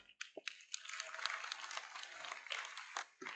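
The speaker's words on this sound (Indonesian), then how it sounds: "Ya, tepuk tangan." Audience applause fills an auditorium during a university orientation session on religious moderation in Ponorogo: a soft, steady patter of many clapping hands with a few sharper claps, fairly quiet and distant, with no talking over it.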